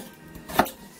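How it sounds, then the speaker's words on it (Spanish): A single knife chop through potatoes on a kitchen board, one short sharp knock standing out in an otherwise quiet room. "Picando papas"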